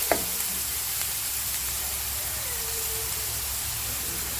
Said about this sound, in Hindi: तेल के अंदर प्याज डाल दिए।